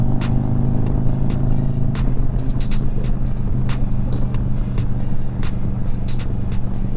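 A Harley-Davidson motorcycle fitted with an HPI throttle body and intake manifold roars steadily under hard acceleration on a road, a loud continuous engine drone with rushing wind noise.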